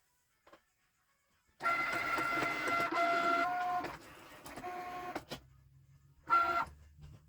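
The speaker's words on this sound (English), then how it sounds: "I'm going to feed this into my Cricut to get these two small patterns cut" A Cricut cutting machine works patterned cardstock on its mat, whirring and buzzing in motor bursts with short pauses between passes, close and fairly quiet, with no talking.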